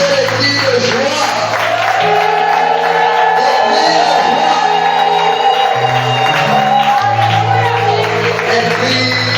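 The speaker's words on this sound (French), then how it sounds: "Est-ce qu'on peut pousser les cris de joie?" A church congregation lets out cries of joy in worship, a loud, sustained crowd of overlapping shouts and whoops over steady music that runs the whole length.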